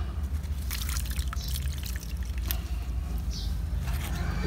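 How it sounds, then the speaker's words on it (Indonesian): Water is poured onto a potted coleus plant, making a close, continuous splashing trickle with uneven bursts as it soaks the soil. "kita bisa menyiramnya langsung ke dalam tanaman"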